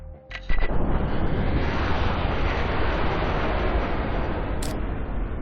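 Slow-motion gunfire from the World of Guns game: a stretched, roaring blast that swells into a dense, sustained rumbling wash and holds loud and steady throughout, with a brief sharper crack near the end.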